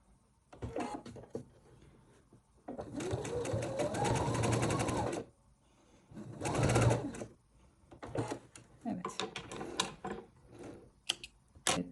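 A sewing machine stitches a V-neck tunic in several separate runs, the longest lasting a couple of seconds, broken by short pauses and light handling noises.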